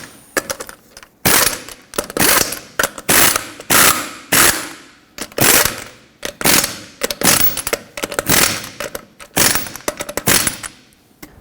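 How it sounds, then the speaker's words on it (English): Ratchet wrench tightening lug nuts on a Toyota Tacoma wheel, a long series of sharp, loud clicking bursts in a steady back-and-forth rhythm, close up and with no talk. "in a cross pattern, tighten them to 83 foot-pounds"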